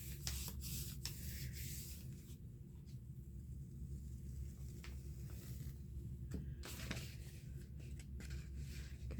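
Paper rubbed by hand over a gelli print plate coated in old paint, a soft steady close-up scraping that runs continuously with a few brighter swishes and low room rumble beneath.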